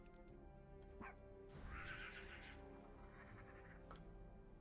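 A World of Warcraft pet battle dog lets out a single short bark amid game effects, faint and low in the mix, following a brief hit sound.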